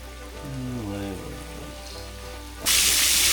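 Pork chops drop into a hot cast iron skillet and burst into a loud, steady sizzle that fills the last second, after a short stretch of quieter kitchen sound with a faint voice.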